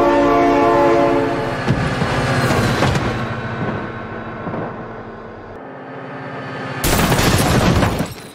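A passing train blares its horn in a long harmonic blast, then heavy wheel clatter and booming rumble pass close by before a loud rush returns at the end; no voices.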